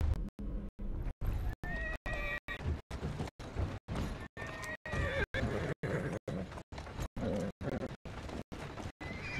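Horse whinnying and clopping hooves in Assassin's Creed Syndicate, a rapid regular galloping rhythm under repeated neighs, with game ambience and a faint voice mixed in.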